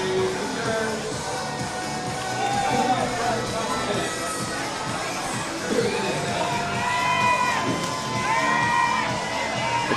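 Baseball fans in the stands cheer and yell after the Y'alls take a late-inning lead, a sustained crowd roar with high shouts and whoops swelling in bursts, nearby and energetic.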